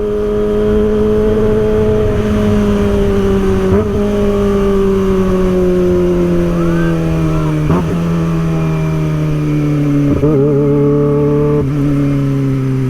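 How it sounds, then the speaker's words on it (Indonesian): Very loud, close engine revving held steady for several seconds, its pitch sliding slowly downward, with a few sharp throttle blips cutting through the drone. "denger suara geberan yang sangat kencang gitu"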